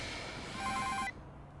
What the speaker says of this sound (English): Hello, Kim Jong-un's phone